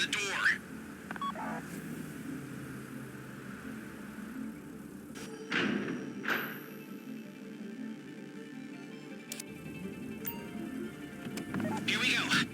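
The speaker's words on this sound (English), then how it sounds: "Take out your phone and trigger the door." A phone keypad beeps through a short run of dialing tones in GTA Online while the crew triggers a bank vault door during the Fleeca Job heist, heard over game music and ambience with voices talking.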